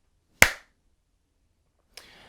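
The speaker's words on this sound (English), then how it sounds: "So you give a clap before you start recording your videos" One sharp hand clap rings out alone in a quiet room, followed about a second and a half later by a fainter knock-like tap.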